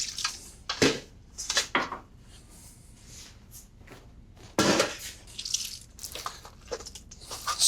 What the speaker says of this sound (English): There's our cabbage. Twist and squeeze.